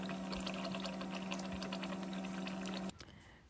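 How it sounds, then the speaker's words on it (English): Oil pours into a frying pan in a steady, close, quiet stream with a faint hum beneath, stopping abruptly near the end. "And then I fill my pan with oil."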